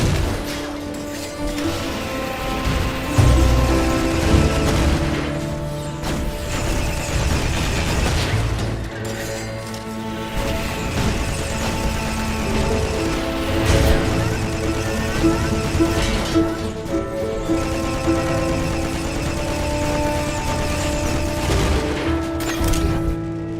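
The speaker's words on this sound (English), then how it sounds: "Engaging more missile turrets." Missile turrets firing amid explosions in the space shooter video game RiftStar Raiders, a dense, loud stream of bursts, pops and booms over a mechanical game soundscape, continuous with no talk.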